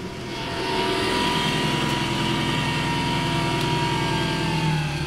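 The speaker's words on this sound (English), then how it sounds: "That is easily the loudest car I think I've ever been in. It's extremely loud. VTEC finally works now and it has no exhaust" Honda Civic EG with a B18 engine and working VTEC, running with no exhaust, roars loud and close in a steady high-revving drone with a harsh rasp, holding constant for several seconds.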